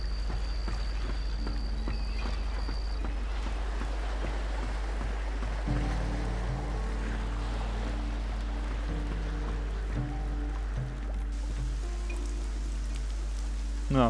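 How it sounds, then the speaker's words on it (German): Rain falls in the video game Risen 2: Dark Waters as a soft, steady patter spread across the whole stretch, joined partway through by a low, droning game music tone that carries on underneath. "Na gut, jetzt regnet's."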